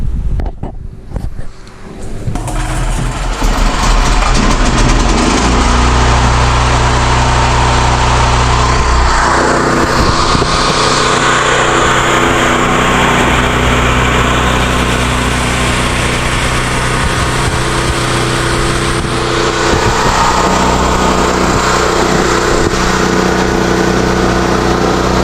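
A Hyundai portable generator engine sputters briefly, then settles into a loud, steady run after its fuel valve has been drilled out and its carburetor cleaned. The close, continuous engine roar lasts for over twenty seconds.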